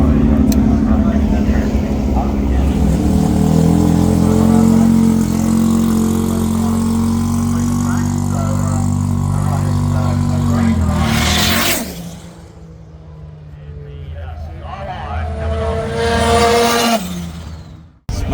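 Rotary-engined Toyota Corolla accelerating hard through the gears, a loud rising rotary howl with pitch climbing between shifts, then a sharp cut and quieter idle before another burst of revving, with people talking nearby.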